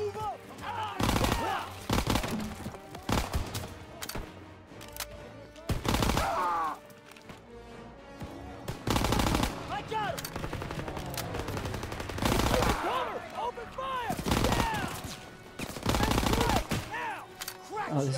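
Bursts of SMG gunfire in the Call of Duty: WWII campaign on Veteran mode, rapid rattling volleys repeating in several loud clusters with pauses between, mixed with game noise and a person talking over the action.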